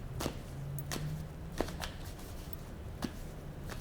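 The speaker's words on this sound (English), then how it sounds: "A couple more shuffles." A few quick, soft card shuffles, brief papery bursts spaced irregularly over a low steady hum.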